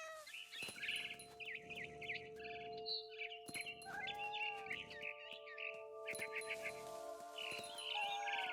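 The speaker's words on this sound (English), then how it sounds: "Then I heard chirping outside my window. It was a barn swallow going back to her nest." Barn swallow chirps and tweets in a video game, bright repeated calls near and fairly loud over a steady tonal game music hum and soft rustling, with scattered bursts of activity throughout.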